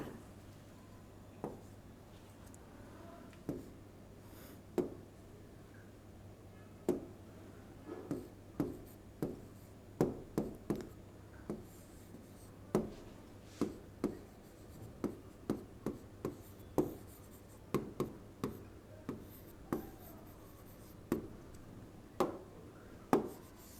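Handwriting with a pen on paper during an Arabic lesson, a steady run of soft, close scratching strokes with sharper taps at irregular intervals over a low background hum.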